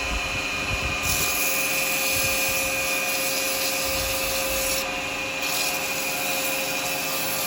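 A wooden pen turning on a lathe is sanded, giving a steady, close rubbing hiss over the continuous hum of the machine, with no talking.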